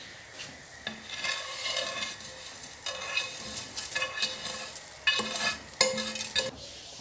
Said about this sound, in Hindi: दूध देखें नट्स के साथ बहुत अच्छे तरीके से माशाल्लाह से बॉयल हो रहा है। अब यहाँ पर मैं इसमें ऐड कर दूँगी जो हमारी फ्राई की हुई सेवियाँ है